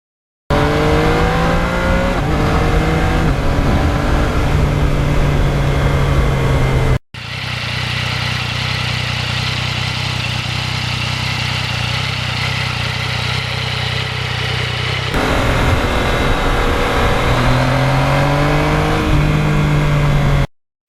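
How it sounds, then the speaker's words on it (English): A 2020 Yamaha MT-09 motorcycle with a cross-plane engine and stock exhaust roars continuously while riding on a back road, its pitch rising and falling with acceleration and shifting, with wind rush in the middle stretch. "the stock exhaust for the cross-plane motor, and it develops the best torque"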